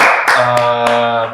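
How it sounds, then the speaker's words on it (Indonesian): A few sharp hand claps from a studio talk-show audience ring out at a quick pace over a sustained musical tone. "Tepuk tangan dulu nih untuk semangat tuh."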